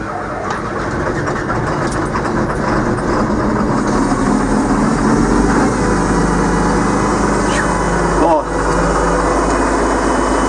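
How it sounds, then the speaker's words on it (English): A Peterbilt truck's diesel engine runs loud and steady after cranking, a continuous heavy rumble with clattering texture and a brief dip near the end, while a voice talks over it. "Didn't think she was gonna crank, but she finally did"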